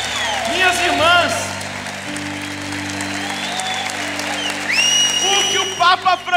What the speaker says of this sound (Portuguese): Quer aplaudir mais? Pode aplaudir a Jesus.